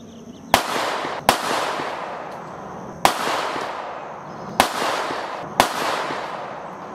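A Walther PDP pistol fires a group of five shots at uneven intervals, each a sharp loud crack followed by a ringing decay, with no talk.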